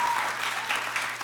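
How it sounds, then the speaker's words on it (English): An audience at a college event applauds, giving a dense, steady patter of clapping from many hands across the whole short stretch. "Give them a round of applause."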